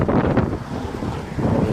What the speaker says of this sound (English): you get a strong northerly wind blowing all the time.